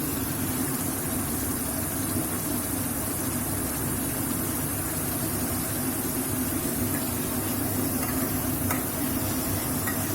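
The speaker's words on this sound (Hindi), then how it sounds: "मेरे जो प्रॉन्स है, जिसे मैंने नमक देकर मैरिनेट करके रखी थी, वो इसमें डाल दूंगी और उसे भी अच्छी तरह से फ्राई कर लूंगी" Salt-marinated prawns fry in a pan with a steady, even sizzle that holds unbroken and fairly quiet throughout, no voices over it.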